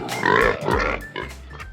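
A pig oinks, close and loud, in a run of rapid, harsh grunts and squeals over under two seconds, with no voice over it.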